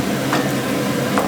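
Tomatoes go into a pan of frying onions, giving a steady close sizzle with a couple of soft stirring scrapes.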